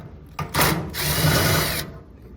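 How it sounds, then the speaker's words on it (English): A power drill whirs up briefly, pauses, then runs steadily for about a second before stopping, close and loud, removing a screw from a dryer. "Get my drill in here."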